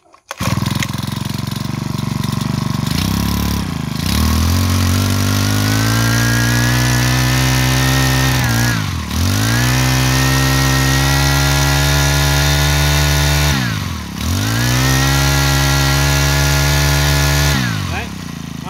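A used Japanese brush cutter's small two-stroke engine runs loud and close, holding a steady buzzing drone with three brief throttle dips that rev back up, while someone talks over it.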